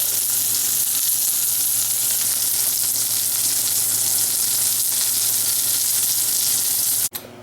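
Beef chuck roast sizzles steadily in a pot, a loud, even frying hiss that runs without a break before stopping abruptly near the end.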